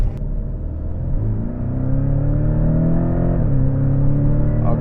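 A Porsche 718 Cayman pulls away, its engine droning steadily and rising in pitch as it accelerates, with a brief dip around a gear change; loud, close and continuous with no talking.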